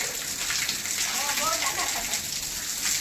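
Rain falling steadily, an even, gentle patter and hiss with a brief murmur of voices in the middle.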